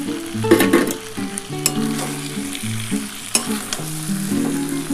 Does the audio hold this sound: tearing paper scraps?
no